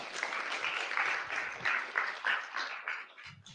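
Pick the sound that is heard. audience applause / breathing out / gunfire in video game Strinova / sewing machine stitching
audience applause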